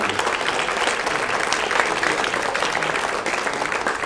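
Sustained applause from an audience at a high school sports banquet, steady dense clapping filling the room for the whole stretch at an even level.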